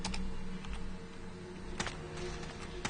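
Commands being typed on a computer keyboard, a close run of quick, uneven key clicks over a steady low hum, with no one speaking.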